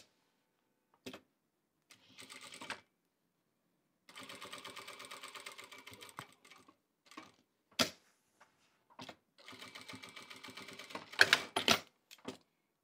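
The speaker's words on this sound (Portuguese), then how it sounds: "é só eu abrir as minhas costuras e vou costurar esse cantinho aqui" A sewing machine runs in short, intermittent bursts of rapid mechanical stitching while closing the corner of a fabric table runner, with quiet pauses and small clicks between runs.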